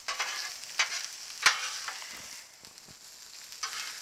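Sauerkraut sizzles on a Blackstone flat-top griddle while a Reuben sandwich is built, giving a soft, steady hiss broken by a few sharp scrapes of a spatula, close up and with no voices.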